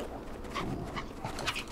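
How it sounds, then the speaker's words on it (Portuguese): A dog-pig creature whimpering in a video game: brief, soft whining and snuffling cries, close and fairly quiet over a low background hum. "Uma mistura de cachorro com porco."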